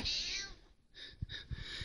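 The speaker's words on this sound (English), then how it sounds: "My cat's meowing in the background." A house cat meowing indoors behind a makeup tutorial, a drawn-out meow followed by a few shorter, quieter mews, fairly close but soft.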